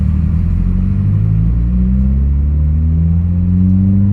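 Road traffic passing nearby as a steady, loud low engine rumble, with a vehicle's pitch rising as it accelerates past; no voices.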